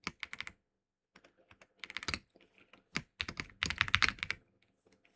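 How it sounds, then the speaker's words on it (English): Loud computer keyboard typing in bursts of rapid clacking keystrokes with short pauses between, close and clear, while coding in IBM DOS. "my loud ass keyboard"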